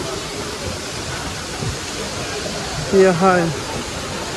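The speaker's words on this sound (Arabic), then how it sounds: "المي صاير مثل الشلال." Water rushing like a waterfall at a waterside seating spot in Fethiye, Turkey: a loud, continuous broadband roar throughout, with a brief voiced exclamation rising above it near the end.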